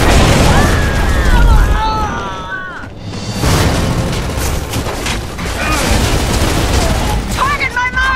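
Gears of War 3 multiplayer combat erupts with a booming frag grenade blast and scattered gunfire bursts, thick with in-game noise and shouted character voices layered over the explosions.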